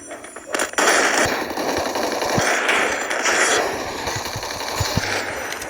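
Rapid gunfire from a video game shooter rattles loud and close, bursts of sharp reports over a dense crackling wash, with sharper isolated shots standing out near the end.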